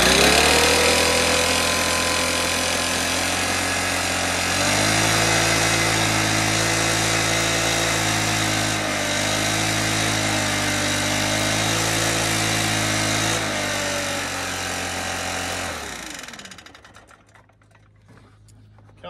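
A freshly serviced Stihl BR 600 backpack blower engine runs loud and close at a steady high idle, its pitch dipping and rising a couple of times before it shuts off and winds down near the end.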